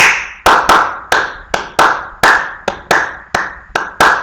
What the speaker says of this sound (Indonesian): Suara apa? Suara tepukan.